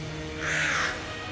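A Gatling Gull boss in the Enter the Gungeon game gives a single harsh, drawn-out caw at close range, rising out of steady background game sound and then fading.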